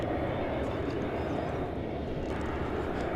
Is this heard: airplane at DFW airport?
yes